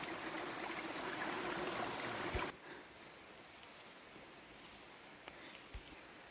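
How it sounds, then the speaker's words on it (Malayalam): A soft, steady rush of flowing water fills the scene, louder at first and then quieter, with a couple of faint knocks. "സ്ഥലത്തിൻ്റെ സൈഡിൽ കൂടെ തന്നെ ചെറിയൊരു വലരി ഒഴുകുന്നുണ്ട്"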